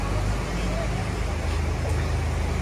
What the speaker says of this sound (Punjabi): ਲੱਗਿਆ ਤੋਰਨ ਮਸ਼ੀਨ ਕੰਪਨੀ 'ਚ ਜੱਸਾ ਬਾਈ ਕਰਦਾ ਸਟਾਰਟ